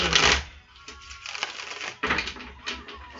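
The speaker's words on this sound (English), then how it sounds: "So I'm just shuffling and clearing up the energies." Tarot and playing cards are shuffled by hand in close, papery riffling bursts, with several quick rustling flurries separated by brief pauses.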